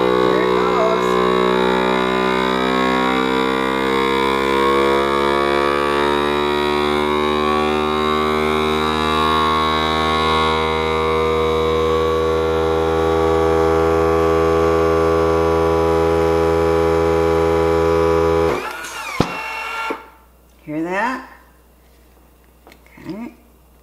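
A vacuum sealer set to its dry setting runs with a loud, steady motor drone and hum for about eighteen seconds, then cuts off abruptly; a few short voice bursts follow near the end.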